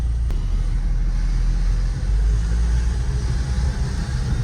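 A car engine hums steadily with a deep low rumble, heard from inside the vehicle as it drives, no voices.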